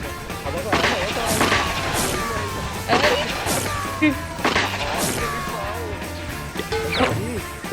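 Gunfire from an online shooting video game, with repeated loud bursts of shots and impacts firing across the scene while voices talk over the action.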